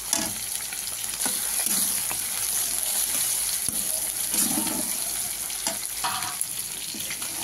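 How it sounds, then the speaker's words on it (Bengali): Crushed chili and garlic fry in a hot pan, a loud close sizzle that runs steadily throughout, with occasional stirring scrapes and clinks. "এবার দিয়ে দিচ্ছি লঙ্কা থেতোটা আর রসুন থেতোটা।"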